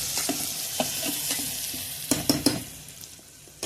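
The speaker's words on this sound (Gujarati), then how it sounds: "આને હાથથી જ હલાવવું પડે" Garlic fries in a pan while it is stirred by hand, giving a soft continuous sizzle broken by scraping stirs and a few sharp taps, close and moderately quiet.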